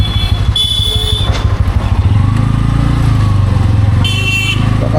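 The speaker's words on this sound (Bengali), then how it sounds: "সকাল থেকে বাইক চালাতে চালাতে অনেক দূর চলে এলাম," A motorcycle rides along a highway on a long trip from Howrah to Tarapith, its engine droning loud and close. Horns honk from passing traffic near the start and again near the end.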